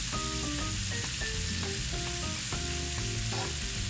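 Shrimp frying in a pan for chipotle ranch tacos, a dense constant sizzle with scattered tonal clinks and scrapes of utensils, close and without talk.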